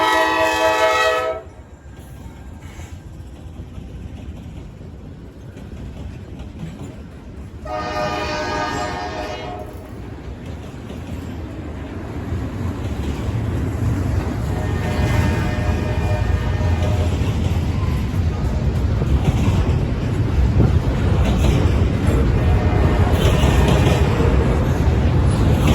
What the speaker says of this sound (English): NS Intermodal Train 218, which comes out of Chicago, Illinois, Calumet Yard